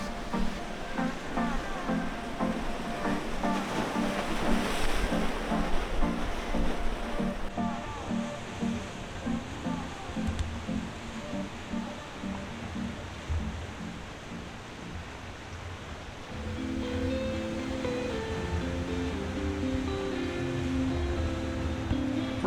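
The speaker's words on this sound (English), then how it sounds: "the wide-crested waves gently rolling onto the shore. The sound of the ocean echoed against the rocks" Ocean surf rolling onto the shore at Stokes Beach on Kangaroo Island, a continuous broad wash of waves echoing off rocks, steady and fairly loud throughout with a slight shift in texture partway through.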